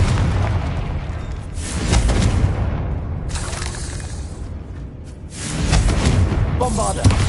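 A Confringo spell blast in Hogwarts Legacy: heavy booming bursts with shattering debris, loud and close, arriving in a couple of surges amid game noise.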